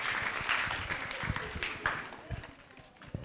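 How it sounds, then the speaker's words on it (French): Crowd clapping and cheering fills the room at a children's show, with voices mixed in under a steady, lively wash of applause. "On l'applaudit très très fort pour Zazou qui arrive."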